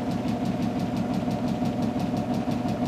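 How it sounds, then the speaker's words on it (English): Generator turned by a prime mover spinning a magnetic field past a wire coil at about 72 RPM, a steady loud mechanical hum with a regular pulsing knock throughout. "Our prime mover is rotating our magnetic field past the coil of wire. And our generator is producing 74, 75 volts right now."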